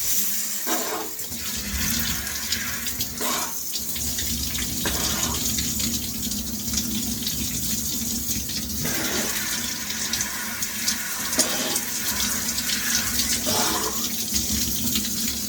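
Cold shower water runs in a steady, loud rush and spatter for the whole stretch, with shifts in tone as the flow hits a body or the floor and no voices.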